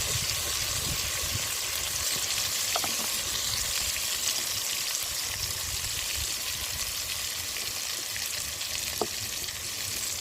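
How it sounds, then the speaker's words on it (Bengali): Tomatoes frying in oil in a home kitchen pan, a steady close sizzle that holds through the whole clip with a few faint clinks of a utensil and no talking. "টমেটোগুলো তেলের মধ্যে দিয়ে একদম কষিয়ে নেবো তেলের মধ্যে"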